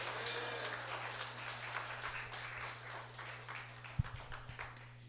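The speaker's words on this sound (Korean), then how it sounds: "마실 때까지 박수" Continuous applause from a church worship congregation in New Jersey, a dense, even patter of many hands clapping at a moderate distance, with no speech over it.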